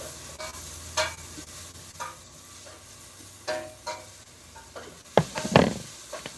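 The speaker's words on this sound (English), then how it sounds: "our onions are starting to sweat" Onions sweating in a pan with mushrooms to follow, a low, quiet sizzle under several scraping stirs, the loudest clatter of utensil against pan near the end.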